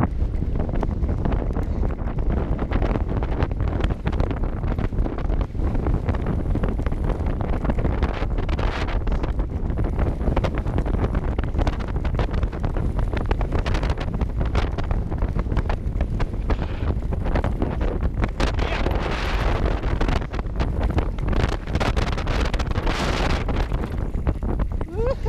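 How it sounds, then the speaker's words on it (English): Wind buffets the microphone of a wearable gimbal while mountain biking on a windy day, a steady loud broadband rumble that runs throughout the whole clip. "It's still windy."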